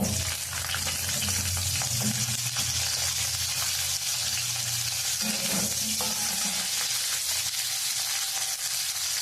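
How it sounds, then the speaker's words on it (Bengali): Steady, continuous sizzling of flat beans frying in leftover fish-frying oil, with occasional stirring scrapes; close and fairly loud, no voices. "মাছ ভাজার সামান্য তেল ছিল, আমি শিমটা একটু ভেজে নেব"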